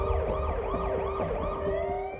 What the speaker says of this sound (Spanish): las sirenas de una patrulla